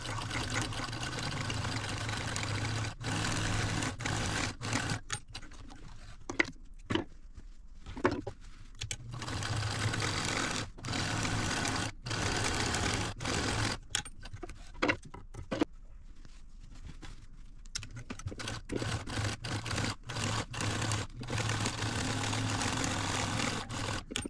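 A sewing machine stitches four 1/8-inch seams on a quilted gift bag, with steady runs of fast whirring stitches broken by brief stops and starts and no talking.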